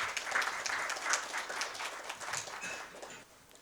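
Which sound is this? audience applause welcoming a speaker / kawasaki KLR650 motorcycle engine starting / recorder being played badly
audience applause welcoming a speaker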